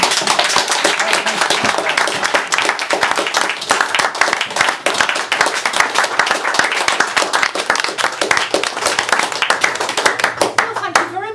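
An audience gives a round of applause to poets after a reading, a dense, loud, close burst of many hands clapping that keeps going for about eleven seconds.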